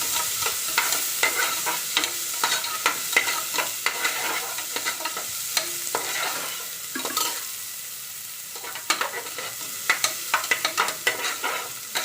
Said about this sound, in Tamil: நான் ஒரு பெரிய வெங்காயம் மட்டும் கட் பண்ணி வச்சுக்கிறேன். இதையும் போட்டு நல்லா வதக்கி விட்டுக்கோங்க